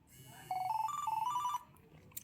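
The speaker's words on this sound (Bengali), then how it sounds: "কল আসছে" Incoming-call ringtone on a Nokia or LG mobile phone, a short, loud stepping electronic melody of bright tones that plays for about a second and then stops.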